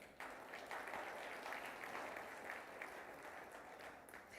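Audience at an academic excellence awards ceremony applauds steadily, a dense, even clapping from a sizeable crowd heard at low level throughout.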